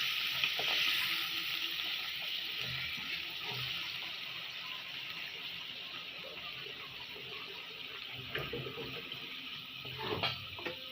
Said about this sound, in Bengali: তাই আমি শাকটা এখন তেলানি করব। রসুন পেঁয়াজ আমি ভেজে নিচ্ছি।